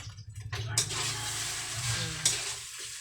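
Egg is stirred through sinangag, Filipino garlic fried rice made from leftover rice, in a hot pan, with a steady loud sizzle and repeated scraping strokes, plus one sharp clack of the utensil near the end.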